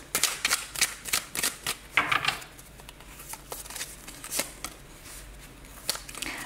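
Oracle cards are shuffled and laid out on a table, producing a quick series of sharp riffling snaps and soft flicks close up, with pauses as the cards are set down and no talking.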